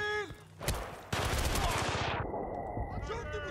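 A burst of rapid automatic gunfire in a video game, loud and continuous for over a second, then dying into a sustained tone.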